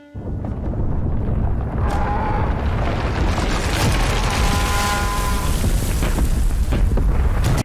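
A rocket launcher blast in a Resident Evil movie: a loud, sustained, rumbling explosion that roars on for several seconds with crackling debris and ends abruptly.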